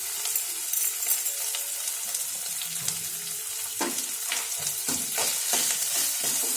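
Asafoetida and tempering spices crackling in hot oil for Telugu uppindi (upma), a steady bright sizzle with occasional sharper pops and spoon scrapes toward the end.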